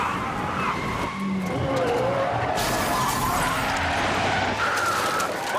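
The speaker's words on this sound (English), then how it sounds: "Mark Bunnell has hit that car. He's lost control." A car skids and slams into an oncoming car amid a chaotic car chase, with a sustained tire screech, a burst of crunching impact around the middle and engine roar throughout.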